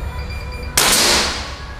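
A single sharp shot from a classic pump air rifle fired over a chronograph after five pumps, a loud crack followed by a short decaying ring, nearby and alone.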